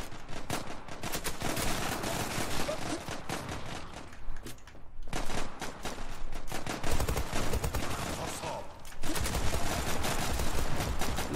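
A Glock-18 pistol fires in the Zula video game in dense, rapid automatic bursts, loud and close, with brief pauses between volleys.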